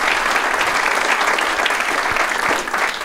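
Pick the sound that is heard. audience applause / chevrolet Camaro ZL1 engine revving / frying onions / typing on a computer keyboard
audience applause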